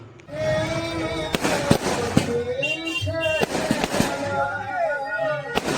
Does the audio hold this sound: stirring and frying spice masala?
no